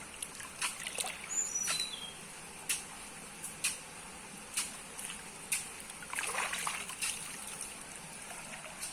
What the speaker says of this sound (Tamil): இங்க பாருங்க எவ்வளவு மழை தண்ணி அப்படியே வர மாதிரி இருக்கு பாருங்க